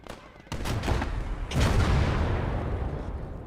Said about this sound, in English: Damn, dude, that mortar goes crazy.